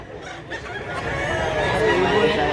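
Chickens at a poultry market cluck and squawk close by, a dense brief burst of fowl calls under a background hum of activity.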